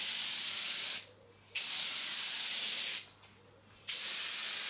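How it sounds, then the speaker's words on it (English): Two sustained bursts of spray-gun hiss as BMW Alpine White colour coat is applied to leather car seats from a BMW M3, each pass lasting about a second and a half to two seconds with short pauses between, close and loud. "So this is the first colour coat going down."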